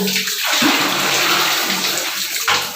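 Water poured and splashing onto a surface during cleaning, a loud, close, continuous rushing gush that swells at the start and again near the end.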